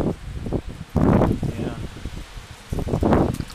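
Wind storm in Aberdeen with gusts forecast near 70 mph, leaves rustling in surging bursts of hissing noise that swell and fade, close to the microphone, with someone talking briefly between gusts.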